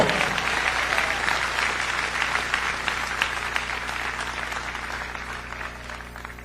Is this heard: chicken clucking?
no